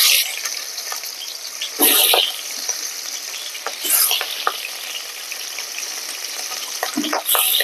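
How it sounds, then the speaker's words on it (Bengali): Hilsa fish frying lightly in hot oil, a steady crackling sizzle with bursts of spattering and a few short stirring scrapes, close and fairly loud, with no voices. "আমার তেলটা গরম হয়ে গেছে, এবার মাছটাকে আমি ভেজে নেব, হালকা ভাবে ভেজে নেব।"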